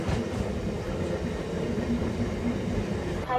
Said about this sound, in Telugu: మన ట్రైన్ యొక్క లాస్ట్ స్టాప్కి అయితే వచ్చేసాం, అదే మౌలాలి.